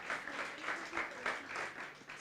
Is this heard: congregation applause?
yes